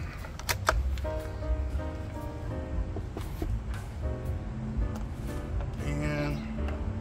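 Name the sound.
pulling back the bolt of an airsoft rifle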